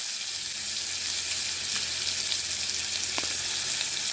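Chopped onion and curry leaves fry in hot oil, giving a steady, close hiss of sizzling with a faint clink near the end and no voices.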